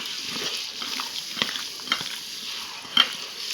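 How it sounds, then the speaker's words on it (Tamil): Raw chicken being stirred by hand with ginger garlic paste for chilli chicken, a steady wet squelching and slapping with a few sharper sticky clicks, close and continuous with no talking. "எல்லாத்தையும் நல்லா கலக்கலாங்க."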